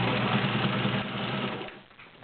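Kenmore 1803 vintage sewing machine with a 16 needle running a zigzag stitch through five layers of Levi's denim: a steady, fast mechanical whir close up, easing off near the end.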